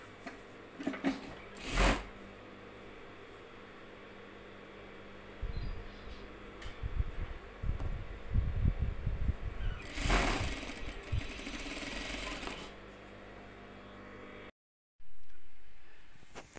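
A sewing machine stitching layered fabric for a pot holder, running in short intermittent bursts of rapid mechanical whirring with quiet pauses between them, fairly faint overall.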